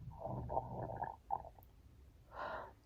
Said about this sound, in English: I'm just getting gurgles.